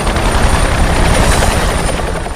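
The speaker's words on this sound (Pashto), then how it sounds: "په دې وخت کې د چورلکو غږونه نور هم ډېر شو" Helicopter rotor thudding loudly and steadily close by, a dense continuous chopping roar with no voices over it.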